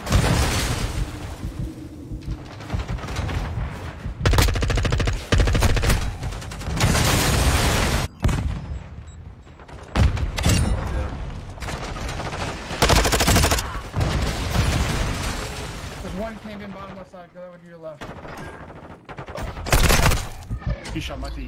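Rapid bursts of gunfire and heavy booms from a competitive shooter video game, loud and repeated throughout with short pauses, while players talk over the action.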